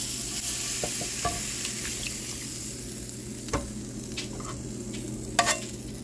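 Meat browns in a frying pan with two tablespoons of cooking oil, a steady close sizzle and crackle running throughout, with occasional scrapes and clinks of stirring against the pan.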